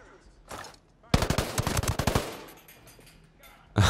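Rapid automatic gunfire from a shootout in the video game Ghost Recon: Breakpoint, a dense burst of about a dozen close, loud shots after a short earlier volley, then trailing echoes.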